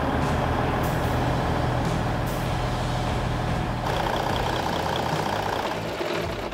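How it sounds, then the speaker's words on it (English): A restored Australian truck engine idles steadily after starting, loud and close with a constant deep rumble and a brief hiss or two, no speech. "Started first time, and the engine just sounded perfect."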